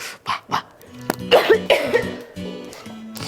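A person coughs several times in short, harsh bursts, close and clear, with a low steady hum in the background.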